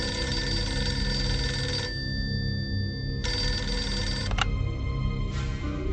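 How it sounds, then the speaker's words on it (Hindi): A telephone rings in repeated electronic bursts with short gaps between them, loud and close. "सोलह दिसंबर की सुबह जनरल सैम मानेकशॉ ने जनरल जैकब को फोन किया।"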